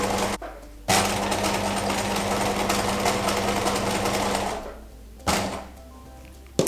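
A sewing machine runs a steady buzzing stitch around the edge of a bargello embroidered canvas, stopping briefly as the fabric is turned and the presser foot is lifted and lowered, then resuming.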